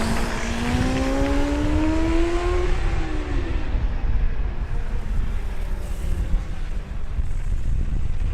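A Formula Student race car from the Sevilla team laps the Formula Student Germany 2022 endurance event, its high engine tone climbing and then dropping away as it passes, under steady wind rush.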